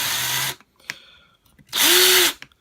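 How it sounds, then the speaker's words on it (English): A power drill cuts a countersink hole for a bolt in a throne kit, with two loud bursts of whining drilling separated by a brief pause and a few small clicks. "But what the countersink will do is it'll make a tapered hole there"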